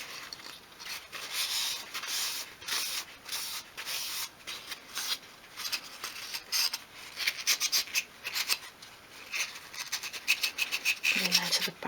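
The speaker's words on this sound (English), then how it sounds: "go over with your dry cloth and just remove the excess" A dry cloth rubs excess wood dye off small dolls' house furniture in quick, close, scratchy strokes, repeating steadily and growing busier toward the end, with no talking.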